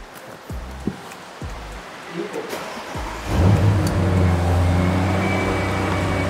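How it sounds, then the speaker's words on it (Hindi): An Audi S8 Plus twin-turbo 4000 cc engine of about 600 hp: a few clicks and faint rustles, then the engine fires up loudly about halfway through and settles into a steady, deep, rumbling idle close by. "बट अगर नहीं सुना तो ये रहा इसका स्टार्टअप"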